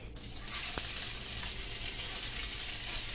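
Olive oil on low heat in a pan gives a quiet, even sizzle that hisses steadily for the whole stretch, with one faint tap near the start and no talking.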